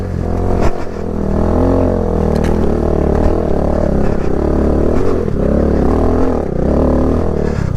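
A Kawasaki Z125 Pro motorcycle rides a trail covered in slick leaves, its engine droning steadily and close, with scattered clatter and scraping from the rough ground.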